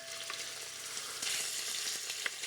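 Beef pieces searing in hot oil in a pan, a bright, dense crackling sizzle that swells partway through, close and steady with a few pops, no voices.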